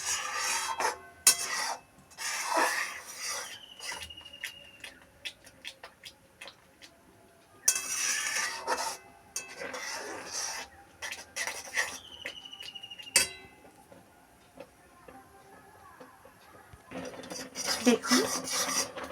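Boiling vermicelli (lachha) stirred frequently with a metal spatula in a pan, making repeated scraping and clinking strokes in uneven bursts, close and moderately loud, with no talk.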